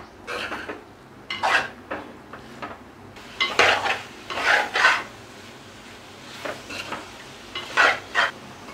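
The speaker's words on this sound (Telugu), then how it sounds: "ఆనియన్స్ని ఇలా గోల్డెన్ బ్రౌన్ కలర్లోకి వేపుకున్నాక ఇందులోకి మ్యారినేట్ చేసి పెట్టుకున్న చికెన్ వేస్తున్నాను." Marinated chicken stirred into golden-brown fried onions in a pan, heard as repeated close scraping and clattering strokes of a spoon against the pan over a faint sizzle, in uneven bursts with no talking.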